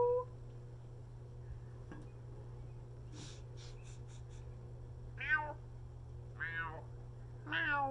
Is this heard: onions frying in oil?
no